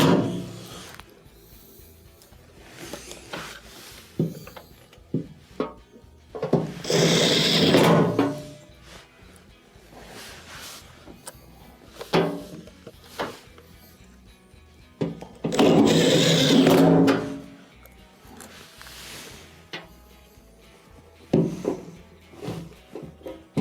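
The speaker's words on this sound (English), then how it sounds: "let's go ahead and reinstall the underside screws" Screws being driven back into the underside of a washing machine, two long loud bursts of a whirring power driver with scraping and clicking handling noises in between.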